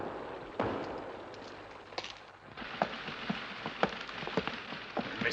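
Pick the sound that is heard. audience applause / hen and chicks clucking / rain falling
rain falling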